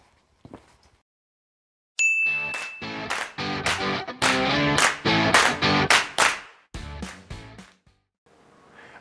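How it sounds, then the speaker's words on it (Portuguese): Short channel intro jingle for a Brazilian botany lesson, punchy rhythmic music hits with a sharp electronic tone at the start, loud and close, then cutting out into a quiet tail. "Roda essa vinheta."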